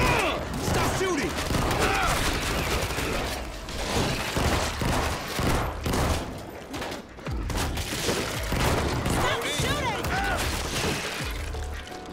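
Dense, continuous gunfire in the zombie shooter World War Z, with rapid bursts and sharp cracks layered over chaotic game noise and voices talking throughout.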